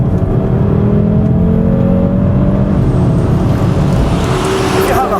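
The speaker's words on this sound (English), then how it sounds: "And you get these pops from the exhaust and a little crackle on the overrun." A Cupra Formentor VZ5 engine revs hard toward high RPM, a loud, continuous engine roar with rising tone; the exhaust pops and overrun crackle are not clearly separable within the sustained drone.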